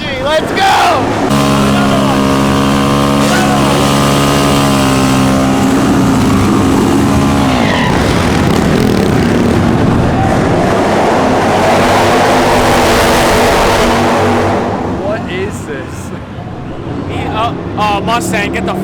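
A Ford Mustang revs hard at a Block City street sideshow, its loud rising engine note filling the scene, with a crowd shouting and cheering over it and the roar easing off toward the end.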